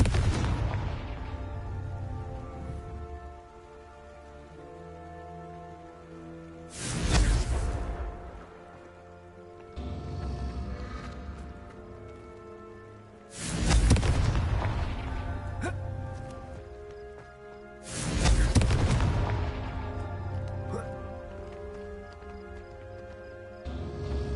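Confringo fire-spell explosions from the Hogwarts Legacy video game: three loud, deep blasts at roughly even intervals, each a sharp broadband burst that rumbles off, over a steady layer of game music.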